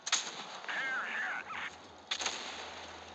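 Tank guns firing high-explosive shells in World of Tanks, heard as two sharp blasts about two seconds apart, each trailing into a noisy rumble, with a brief vocal sound between them.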